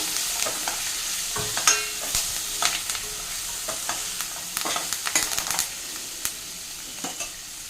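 Half a kilo of cut okra (bendakaya) stirred in a hot frying pan for a Telugu pulusu curry, with steady sizzling and repeated scraping strokes of the spoon, close and fairly loud, no talking.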